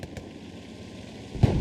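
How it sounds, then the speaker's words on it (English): An explosion booms in the Hell Let Loose war game: a sudden heavy blast near the end, over low background rumble and a couple of faint earlier pops. "I just heard a hard explosion here on the backside."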